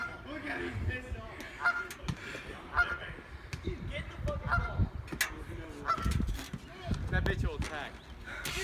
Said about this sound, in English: there's one angry goose